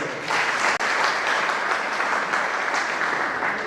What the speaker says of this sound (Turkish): Onlara da bir kocaman alkış istiyorum